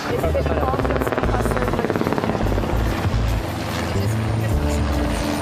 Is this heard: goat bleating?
no